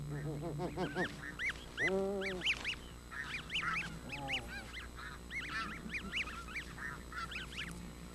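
Several geese honk and call in bursts, some close and loud, others softer, with overlapping squawks over a faint steady background hum.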